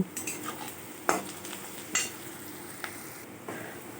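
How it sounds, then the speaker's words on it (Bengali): Garlic, ginger and salt being stirred in a frying pan: a soft background sizzle broken by a few distinct scrapes and clinks of a spoon against the pan, quiet and close, with no voices. "নুনটা দেওয়ার পর আমি দু তিনবার এটাকে নাড়াচাড়া করব"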